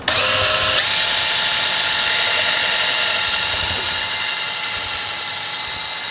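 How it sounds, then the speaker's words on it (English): A power drill with a 1/2 inch bit bores lengthwise through the center of a raw New York strip roast, a loud steady whine running continuously and close by with no one speaking over it. "I am actually going to be using my power drill today with a 1/2 inch drill bit"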